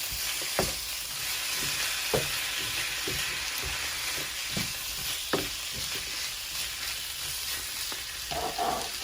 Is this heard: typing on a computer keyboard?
no